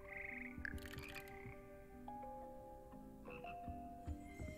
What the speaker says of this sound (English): Toads are singing.